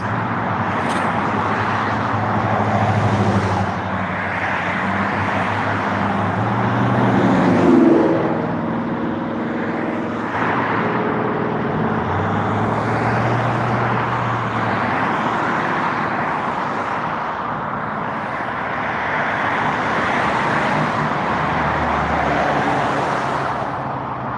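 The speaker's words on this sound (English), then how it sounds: "this is a real high traffic area. West Walnut Avenue, West Dalton" Road traffic on busy West Walnut Avenue in West Dalton, a steady wash of car engines and tyre noise with vehicles passing close by, swelling and fading, alone without voices.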